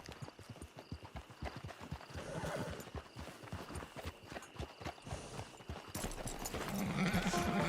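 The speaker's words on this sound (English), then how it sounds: "There's the camp. It's your horse." A horse in the video game Red Dead Online clip-clops along at a steady walk near a camp, its hooves close and rhythmic, with whinnies breaking through the hoofbeats.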